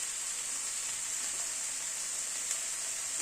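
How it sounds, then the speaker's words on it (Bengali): Paneer sizzles and fries in a pan while being stirred, a steady close hiss with bright high-frequency crackle running evenly throughout, no voices. "পনিরটাকে আবার একটুখানি নাড়াচাড়া করে নেব।"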